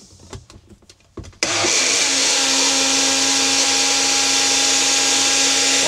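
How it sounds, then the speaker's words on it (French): A kitchen blender whirs at full speed mixing a protein shake, running off an EcoFlow River 3 Plus portable power station; after a second of quiet handling, the loud steady motor roar starts abruptly and continues unbroken. "Est-ce qu'il peut faire tourner mon mixeur pour mélanger mes protéines?"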